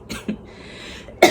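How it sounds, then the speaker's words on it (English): Three short, raspy coughs from a person with a lingering cough after a cold and tonsillitis: two quick ones close together, then a louder one after a pause, heard close and alone. "since then I've had this awful cough, so I will try my best to hold off on the coughing"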